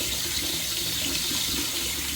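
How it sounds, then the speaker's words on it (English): Tap water runs steadily into a sink as it fills for soaking lace table runners and doilies, a constant close splashing hiss with no voices. "Fill up my sink."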